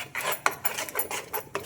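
A spoon stirs mushroom gravy with coconut masala in a cooking pot, making quiet scraping and clinking strokes in an irregular rhythm with small sharp knocks against the pot.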